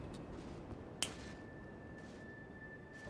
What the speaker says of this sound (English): Finger snap.